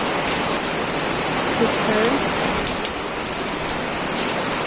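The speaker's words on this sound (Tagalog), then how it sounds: "Kung makikita nyo, malakas yung hangin. Saka yung ulan." Heavy typhoon rain pours steadily outside a house with strong wind, a dense, loud hiss of downpour filling the whole clip, with a brief spoken word partway through.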